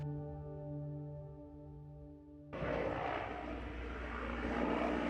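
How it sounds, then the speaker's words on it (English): A firefighting helicopter's rotor and engine roar kicks in suddenly halfway through, a steady loud drone that grows slightly, following a quieter hum, overhead near the ruins of ancient Troy in Turkey. "we spotted this helicopter overhead"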